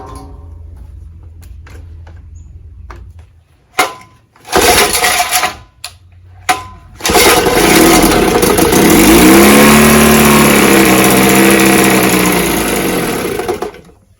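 An Evinrude 5.5 outboard motor with maladjusted carburetor settings is pulled and sputters in short bursts, then catches and runs loudly with a rough, revving buzz for several seconds before fading and dying out.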